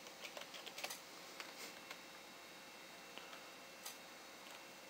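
Typing on a computer keyboard while logging in to a WordPress blog: faint, scattered key clicks in short irregular bursts over a quiet background hiss.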